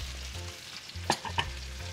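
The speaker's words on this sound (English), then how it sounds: "now you can see the sauce right down here, Darcizzle. It's boiling like crazy for like a fifth time now" Sauce bubbles hard in a pan on the stove, a steady sizzling hiss with a couple of sharp clinks of a spoon or utensil against the pan partway through.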